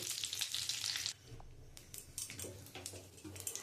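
Cumin seeds and bay leaf sizzling hard in hot oil left from frying pointed gourd, a loud, dense hiss for about a second that drops to softer crackling and spatter with a few faint stirring clicks.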